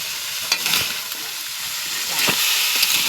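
Morola fish curry sizzles steadily in a pan, a constant frying hiss with a few soft scraping stirs over about three seconds, close and moderately loud.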